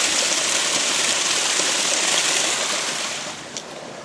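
Water pours steadily from a small spring onto a trail, a close, loud and even broadband rushing that softens slightly near the end.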